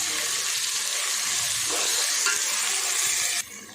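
Ground masala sautéed with fried onions in a pan for chicken dum biryani, a loud, continuous sizzle with faint stirring scrapes that suddenly drops in level just before the end.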